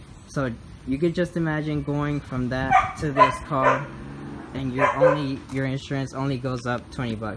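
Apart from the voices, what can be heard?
dog barking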